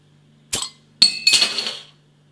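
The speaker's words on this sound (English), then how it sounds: "let's get the beer out into a glass and see what we get" Kapittel Watou Tripel Belgian beer being opened and poured into a glass: a sharp clink of glass on glass, then a second knock and a fizzy, splashing pour lasting under a second, close and fairly loud.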